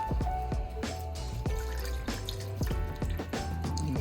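Liquid trickles and splashes steadily into a container, with faint drips and clinks throughout and no talking.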